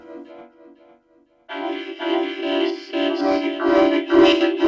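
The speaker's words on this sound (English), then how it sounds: "This is the sound of a fantastic thing called a recorder." A breathy synthesized recorder tone, first a soft, faint phrase, then after a short gap a louder, sustained melody with airy vibrato.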